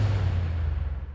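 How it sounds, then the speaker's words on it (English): A deep, booming impact effect on a transition and the end of a drop in an emotional progressive house track; a single heavy low thud whose rumble fades over about a second. "Here I have some impacts on the transition and on the ending of the drop,"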